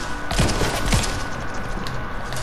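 Gunfire in a Fortnite match, with two sharp, heavy shots close together early on followed by fainter scattered crackling and background game noise.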